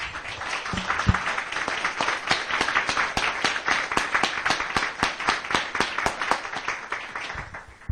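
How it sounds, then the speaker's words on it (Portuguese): Congregation clapping during a church sermon, a dense rhythmic ovation of many hands with strong regular beats, loud and sustained throughout. "Vamos dar uma salva de palmas para o Senhor Jesus."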